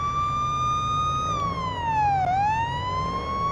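Police car siren in the Police Simulator: Patrol Officers video game, a steady loud wail that holds, dips down and rises back up once, over a low engine rumble.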